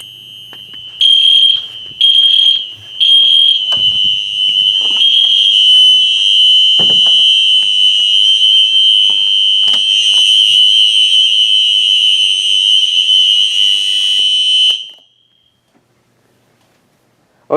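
Fire alarm horn sounding during a loud system test that includes an ESC Genesis device, first in three short piercing blasts, then holding a continuous shrill tone close and very loud before cutting off into silence.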